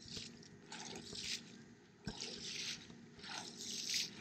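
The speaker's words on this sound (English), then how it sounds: "first we have to get the water off, and we use a squeegee" Squeegee pushing rainwater off a flat commercial roof, a series of close, wet swishing sweeps in uneven bursts with a soft watery hiss between strokes.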